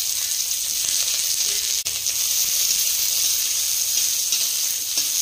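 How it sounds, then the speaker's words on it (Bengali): Spice paste of garlic, green chili and grated ginger dropped into hot oil for a village-style kochu flower and prawn dish, a loud steady hissing sizzle with faint crackles, close up and uninterrupted. "এবার মশলাটা তেলের উপর ছেড়ে দিচ্ছে।"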